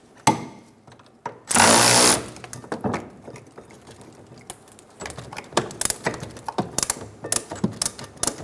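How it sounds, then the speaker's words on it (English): A 14mm socket and ratchet loosen the rear brake caliper bracket bolts on a 2003–2007 Honda Accord: sharp metallic clicks and clanks, one brief loud hissing burst, then a run of quick ratcheting ticks nearby. "Using a 14mm socket, remove the caliper bracket bolts."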